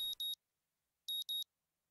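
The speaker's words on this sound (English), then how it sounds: "The sound of my alarm brings me out of a dream" A digital alarm clock in the visual novel game Katawa Shoujo beeps in two quick double pulses, high-pitched and clean, with silence between the pairs and no talking.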